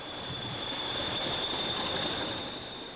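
A Class 40 diesel locomotive, number 4124, draws carriage stock into sidings with a steady rumble of wheels and a sustained high squeal from the rails, close by and constant with no voices.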